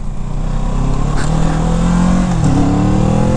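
A 2021 Kawasaki Z650 motorcycle engine pulls hard on the throttle, its loud, steady drone rising in pitch as the bike accelerates, with a brief dip and climb near the end and no talk.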